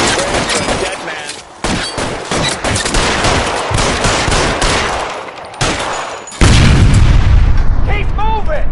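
Rapid gunfire in a police shootout in the video game L.A. Noire, with dense bursts of shots and booming impacts running throughout, and shouted dialogue over the top.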